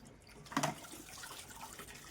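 Fresh water runs from a tap to fill a container, with a short louder splash early on that settles into a steady, soft, close-up gush of flowing water.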